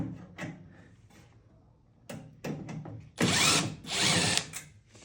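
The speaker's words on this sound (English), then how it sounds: "Make sure you have that drill on left." Power drill running in reverse to back out screws on a Pit Boss smoker during an auger repair: short whirring bursts, then longer loud grinding runs, close up with clicks of handling between.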